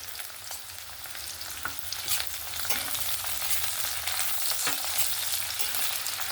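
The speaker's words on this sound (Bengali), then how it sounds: "দিয়ে আবার একটু নাড়াচাড়া করে পেঁয়াজের সঙ্গে ভেজে নেব" Onion and chopped green chillies frying in a pan, a dense continuous sizzle with intermittent scraping stir strokes and soft clicks, close and fairly loud with no voices.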